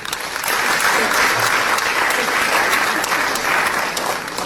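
Loud, dense crowd clapping at a political speech, continuous and steady throughout with a faint voice or two underneath.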